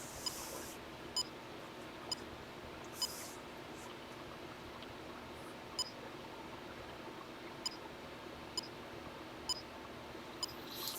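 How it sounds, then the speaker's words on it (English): Short, high-pitched electronic beeps from a Texas Instruments TI calculator running a 60-second timer program, ten or so evenly spaced chirps about one second apart, faint over quiet background hiss with occasional soft clicks. "I think these beeps are a little fast."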